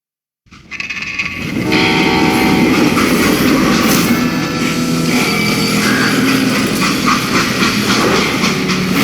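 A freight train in the video game Call of Juarez: Gunslinger rumbles in abruptly and stays loud and close, a dense roar of wheels and rattling cars with a horn-like tone riding on top.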